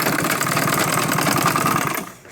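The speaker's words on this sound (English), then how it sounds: "you shift it and do the final sewing" A sewing machine stitches the final seam of a bag in a fast, steady run of needle strokes, loud and close, stopping abruptly just before the end.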